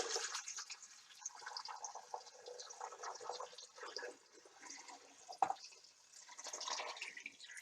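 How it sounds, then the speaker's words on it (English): Water is poured into a pan of washed fruit for making marmalade in a cooking session, a quiet, continuous splashing and trickling with gurgles that rise and fall for several seconds. "Then add the water."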